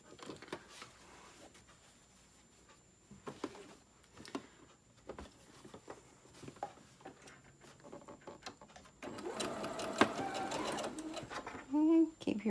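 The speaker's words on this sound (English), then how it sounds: "we're going to quickly sew the other side" A sewing machine stitches along the side of a small fabric tote bag, with scattered handling clicks and taps before a sustained whirring run near the end.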